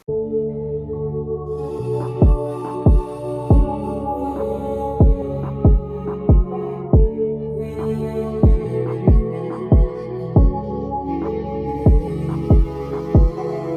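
A hip hop beat with punchy kicks landing at a steady rhythm, layered with sustained filtered vocal tones and melodic pads, no speech.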